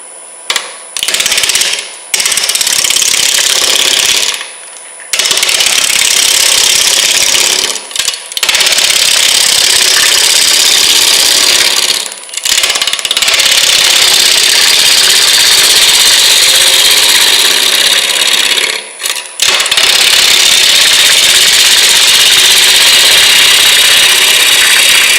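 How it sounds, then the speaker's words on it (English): Steady, loud whine and rush of a lathe as a chisel cuts a green wood bowl, with a few brief dips in the cutting noise and no talking. "hold the back of the chisel here with your hip, tilt this over so that the flute is kind of aimed at a 45-degree angle"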